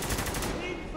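Rapid automatic gunfire in the video game Spec Ops: The Line, a dense, loud burst of shots filling the whole second, with game noise underneath.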